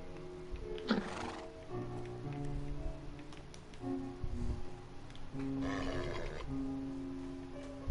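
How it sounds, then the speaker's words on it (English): A Minecraft horse neighs twice, a shrill whinny early on and another a few seconds later, over a steady bed of background tones. "I did just hear a horse."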